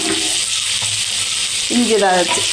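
Sliced carrot and green chillies sizzle and hiss loudly in a hot pan, with a brief stirring scrape near the end.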